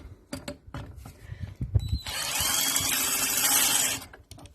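Battery-operated drill pulling the retarder piston from a Peugeot 505 DPC injection pump on an XD3 non-turbo engine, a few short knocks then a steady high whir for about two seconds, close and loud.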